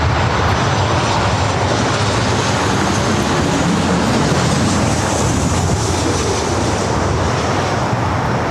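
Airliner engines roar loudly and steadily at Los Angeles International Airport during plane spotting, a broad continuous jet rumble with no speech.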